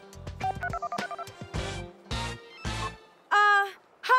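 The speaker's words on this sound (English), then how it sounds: "Proceeding with dialing." A cell phone being dialed: a quick run of close, bright keypad tones, then a few longer beeps and a ringing tone, heard clearly in a quiet room.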